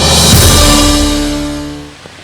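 Strong typhoon wind and heavy rain lashing Barangay Laygayon in Pinabacdao, Samar, during Typhoon Paeng: a loud, steady broadband roar that eases slightly toward the end, with no voices.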